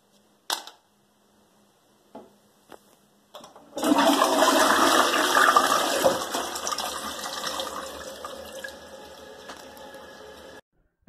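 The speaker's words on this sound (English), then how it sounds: "It's like they just took my money and flushed it down the toilet." A toilet flushes loudly in one sustained rush of water that fades into a quieter trickle and refill, with a few faint clicks before it.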